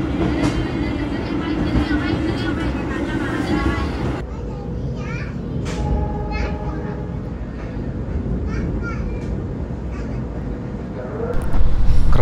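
Argo Semeru stainless steel executive train running, heard from inside the carriage as a steady low rumble and rattle throughout, with faint voices and occasional children's chatter over it and a louder surge near the end.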